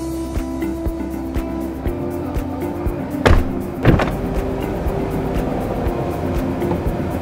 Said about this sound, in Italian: premendo il tasto automatico, di chiudere la portiera e aprirla